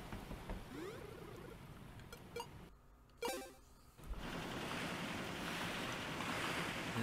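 A boat sails over ocean waves in the video game The Touryst, a steady wash of surf and wind broken by a brief quiet gap and a few clicks before the water noise returns fuller.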